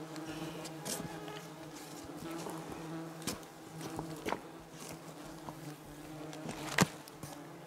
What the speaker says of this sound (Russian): Вот мухи.